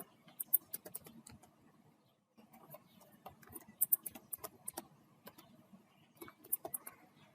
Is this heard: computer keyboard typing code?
yes